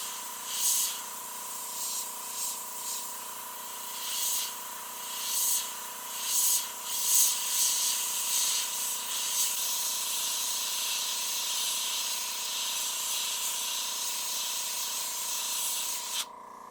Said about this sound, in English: This is a pretty big needle on this airbrush, so I'm trying to use the overspray to get what I want done.